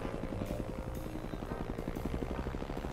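A helicopter flown in the Disney Infinity video game, its rotor giving a steady, rapid chopping throb that pulses evenly throughout, loud and continuous with no talk.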